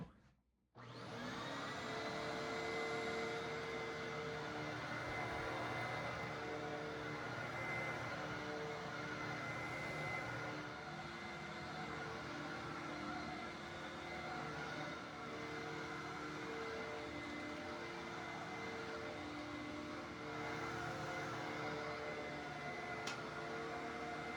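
A Fantom vacuum cleaner switches on and runs steadily for the whole stretch, a loud, even whine over a motor hum with no talking.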